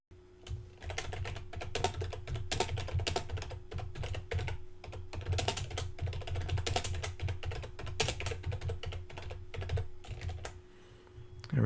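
Steady, fast typing on a computer keyboard, dense rapid key clicks continuing without pause for several seconds, close and clear with no talking.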